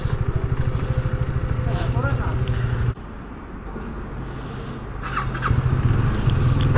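A motorcycle engine runs steadily on a road, a pulsing drone that drops briefly and then builds again, with someone talking over it.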